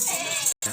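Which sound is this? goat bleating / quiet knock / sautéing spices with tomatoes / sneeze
goat bleating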